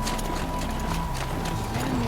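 Horse hooves clip-clop steadily in Horizon Zero Dawn, a close, quiet rhythmic trot heard alone with a low ambient hum beneath.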